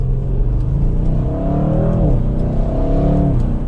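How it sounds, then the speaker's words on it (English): A 2022 BMW M8 Competition or Audi RS7 or RS6 Avant performance car pulls away hard from second gear, its loud engine note rising, then a brief dip at a shift before the revs climb again. "As we start off from second gear again here."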